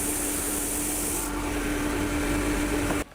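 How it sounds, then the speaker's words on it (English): A belt sander hums steadily as the edges of a wooden end-grain cutting board are rubbed against it, a continuous gritty abrasive hiss that cuts off abruptly at the end. "clean up the edges on the belt sander"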